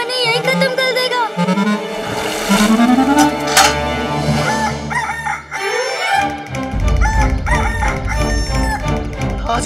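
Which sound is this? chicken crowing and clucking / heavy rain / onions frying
chicken crowing and clucking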